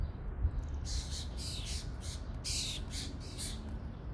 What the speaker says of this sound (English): a whole bunch of noisy birds just flew overhead